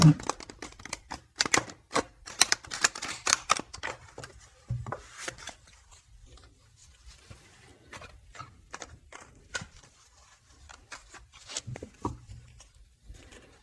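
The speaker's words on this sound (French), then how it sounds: "Je vais faire un petit peu de bruit pour bien mélanger les cartes." A deck of tarot cards is shuffled by hand close up, with quick papery slaps and flutters in rapid clusters that slow into softer, sparser riffles.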